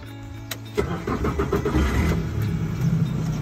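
A speedboat's outboard engine is started with an ignition key on a lake, a short crank catching into a rough idling rumble nearby.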